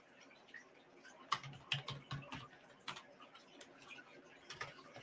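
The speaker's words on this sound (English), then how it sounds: "I'm just going to type out this last part real quick." Quick, uneven clicks of typing on a computer keyboard sound close by in a quiet room, while a dove coos softly in the background.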